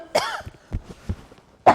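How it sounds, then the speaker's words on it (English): A man coughs several times in short, harsh bursts spaced out over a couple of seconds, close and dry, ending with a louder final cough and no talk. "I'm going to cough again."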